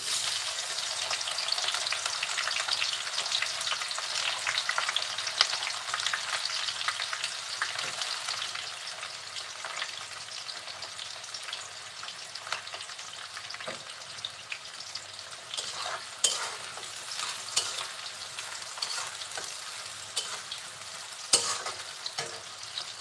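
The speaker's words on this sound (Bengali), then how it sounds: "তেলটা একটু গরম হলে দিয়ে দিচ্ছি পেঁয়াজ কুচি" Chopped onion frying in hot oil for a home-style Bengali chicken curry, a continuous steady sizzle with occasional stirring clicks, close and even throughout.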